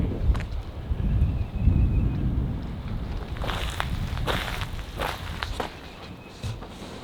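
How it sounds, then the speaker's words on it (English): Strong gusty wind buffets a microphone outdoors at an RV site, giving a loud, steady low rumble with some rustling and a few brief knocks and no speech. "I don't want to put too much wind into the microphone. Oh, here goes, the wind's going crazy."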